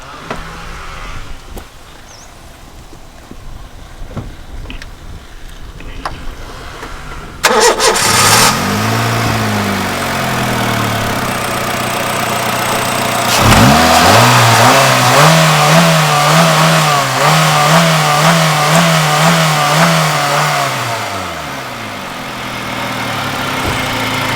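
A 2009 Honda City V car engine cranks and fires up after a quiet stretch, then settles into a steady idle and is revved up and held at higher RPM before dropping back, loud and close with no talking.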